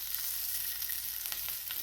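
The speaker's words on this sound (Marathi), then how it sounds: "मिरचीलाच आपल्याला पलटायचं आहे. मिरची आपली छान भाजली ना" Green chillies roasting in a pan for a spicy Maharashtrian chilli thecha give a short, steady, soft sizzle with a few faint crackles, no voices.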